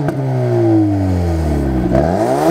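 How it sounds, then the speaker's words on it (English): A 2019 Ford Focus ST engine revs up loudly and close with the door open, pitch climbing then falling, with crackling exhaust pops and clatter as it drops off before a second blip near the end. "you pop your door open and you give it some revs, it does sound quite nice"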